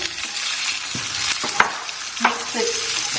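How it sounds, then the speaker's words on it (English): Pork fried with browned garlic for a spicy chilli pork dish sizzles loudly and close, broken by clanking spatula strokes against the pan as the meat is stirred through. "My garlic is starting to brown around the edges. So I'm going to put my meat back in."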